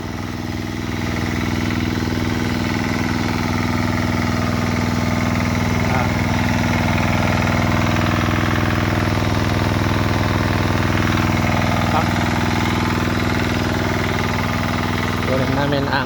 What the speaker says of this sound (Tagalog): nagpapump kami ng fish pan.